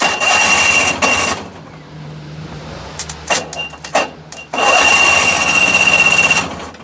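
A tuk-tuk's electric motor tries to run once its battery is connected: a loud, steady whine with a high tonal edge fills the start and end, while a quieter stretch in the middle carries uneven clicks and short bursts.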